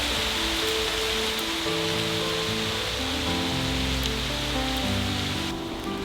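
Rain falls on a narrowboat out on the water under a mix of sun and showers. A dense, steady patter of drops continues without a break, even and fairly loud throughout.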